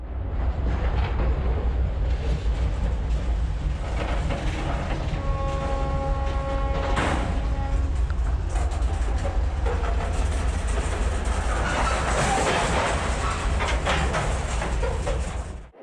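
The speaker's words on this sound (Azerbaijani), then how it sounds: "Qazaxıstandan 15 vaqondan ibarət qatarla aparılan taxıl yükü ötən günün birinci yarısında Azərbaycan ərazisinə daxil olub" Freight train of 15 wagons carrying grain from Kazakhstan, rolling steadily with continuous loud rumble, clickety-clack of wheels and a brief squealing tone partway through, no talk.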